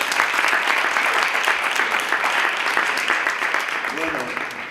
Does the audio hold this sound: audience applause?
yes